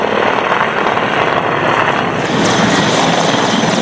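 A Mi-35M multi-role attack helicopter of the Russian Air Force flying close and loud, its dense rotor and turbine roar steady throughout with a slight shift in tone midway.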